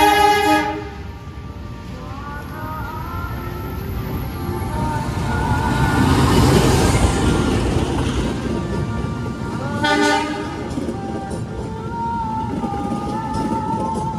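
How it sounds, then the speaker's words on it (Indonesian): A passenger train rumbles steadily into Purwokerto station on track 3, wheels grinding on the rails, with a horn sounding briefly near the start and again later. "Kereta api Jaka Tingkir tiba, masuk di jalur 3 stasiun Purwokerto"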